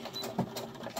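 Sewing machine back stitching a couple of stitches on fabric reusable makeup pads, a brief, close mechanical whirring with quick rhythmic needle clatter.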